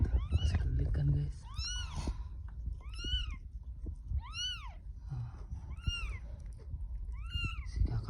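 A newborn kitten, just delivered by its mother cat, gives a run of high, rising-and-falling meows, about six evenly spaced cries, close by, with a person talking quietly underneath.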